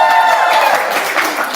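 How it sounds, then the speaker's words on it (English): A live audience at a TalentNet event cheers and applauds in a steady, loud wash of clapping and crowd noise that fills the brief moment. "So you could cheer a little bit"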